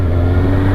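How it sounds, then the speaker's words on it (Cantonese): A car idles close behind at a roadside spot near an airport, its engine giving a steady low hum with a faint rising rev. "不過有車喺後邊"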